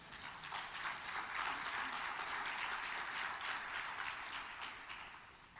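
Applause from a church congregation during a sermon, a steady, fairly faint wash of many hands clapping that holds evenly and tapers off near the end.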